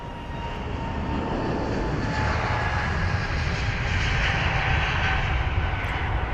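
An Aer Lingus Airbus A320neo jet departing London Heathrow, a loud steady engine roar with broad rumble and a faint whine, holding strong throughout and heard alone.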